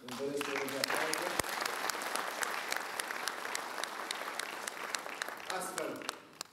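An audience applauds at a PSD Bacău municipal party general assembly, with sustained dense clapping that carries on for several seconds and fades at the end, while a voice speaks briefly at the start and finish.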